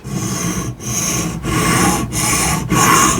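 Knife blade worked push-pull on an Atoma diamond whetstone in a Tsprof K03 guided sharpener, making loud close gritty rasping strokes in a steady rhythm, about five even passes separated by brief pauses.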